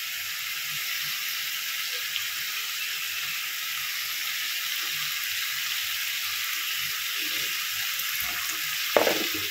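Spices stirred into a pan for egg curry, dim'er dalna, fry with a steady, even sizzle throughout, with a few soft scraping clicks of stirring and a brief louder knock near the end; no talking.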